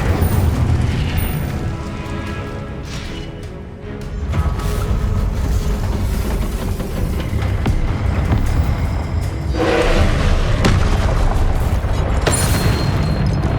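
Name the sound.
Incendio spell cast in video game Hogwarts Legacy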